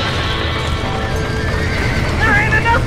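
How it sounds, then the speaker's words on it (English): Horses neighing in panic inside a burning barn in the video game Red Dead Redemption, a loud shrill whinny rising near the end over steady crackling and commotion, with shouting voices nearby. "Somebody get them horses out!"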